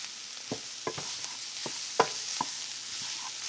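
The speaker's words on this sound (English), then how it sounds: "We'll cook this down to a roux. Let it go for about a couple of minutes, get the flour taste out of it." A flour roux cooks in a pan for a rabbit mustard cream sauce, giving a faint steady sizzle with a few soft, spaced scrapes of stirring, quiet and close with no talking.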